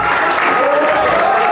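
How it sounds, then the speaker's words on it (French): A conference audience bursts into brief, steady applause, close and loud, with a voice faintly underneath. "Est-ce que vous pouvez applaudir pour lui?"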